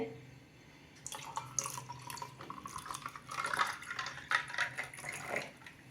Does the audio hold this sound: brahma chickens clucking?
no